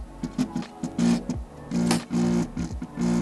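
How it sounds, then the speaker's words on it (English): A Creality Ender 3 S1 3D printer drives its Z-axis with a harsh, buzzing mechanical drone that comes in repeated loud pulses, rattling and vibrating close by. "When moving the Z-axis,"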